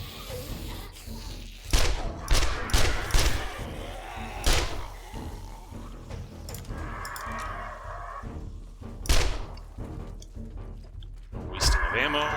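Loud individual gunshots in the zombie survival game 7 Days to Die, several sharp bangs spaced irregularly over a background of game ambience, with a player speaking in between.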